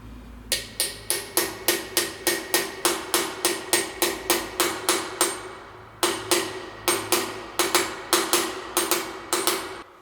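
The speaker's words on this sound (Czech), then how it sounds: "poznáme podle toho, že ty rany tím kladivem změní zvuk" Hammer blows drive a wheel bearing into a Kawasaki Z750 motorcycle hub, a steady run of sharp, evenly spaced metallic strikes up close with a brief pause partway, then the rhythm resumes.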